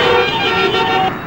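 Car horns blare in busy road traffic, one loud sustained honk holding steady and close for over a second before easing off, with no talking.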